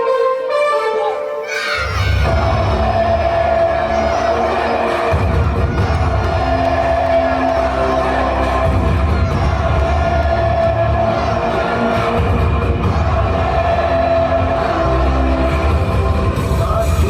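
Audience at a school annual function erupts into loud, sustained cheering and applause after a short quiet start, with children shouting and whooping in a dense crowd roar that continues throughout.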